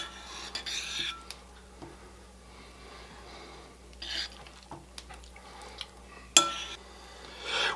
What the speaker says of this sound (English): take a big spoon and gently work that rice vinegar into our rice